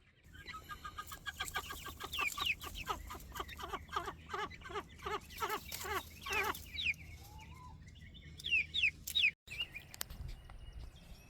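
Young chickens, future hens, cluck in a garden yard, a rapid run of close repeated clucks followed by scattered squeaky chirps and calls, moderately loud, no talking.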